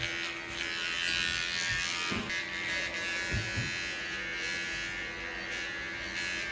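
Electric clippers buzzing steadily at close range while shaving hair from a surgical site, a continuous drone with a few faint brushing bumps and no talking.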